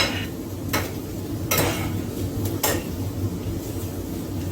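Crab legs being stirred in a metal pot on a hot stove burner, a few scraping clatters of utensil on metal over a soft sizzling background, with no talk.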